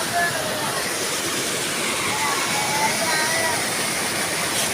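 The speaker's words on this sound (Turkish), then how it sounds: "Ve işte burada şelaleler var." An icy waterfall flows inside Kaklık Cave, a steady broadband rush of water holding at an even, fairly loud level throughout with no pauses.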